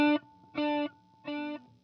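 Single guitar note through a TC Electronic Triple Delay pedal set to quarter-note repeats at 85.6 BPM: three evenly spaced, nearly equal-loudness echoes with slight distortion, alone and close.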